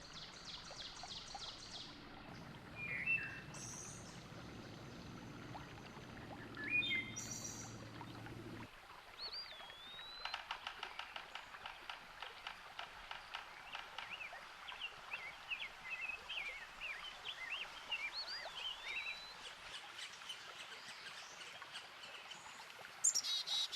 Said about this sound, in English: There is bird song in all directions.